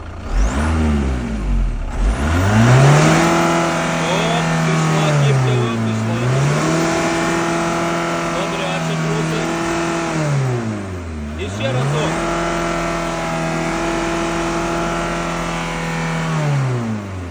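Audi A4 with a 1.9 TDI diesel engine being revved hard during a decarbonizing treatment: sustained loud high-rpm engine roar held steady, dropping twice briefly and climbing back, recorded close up without talk.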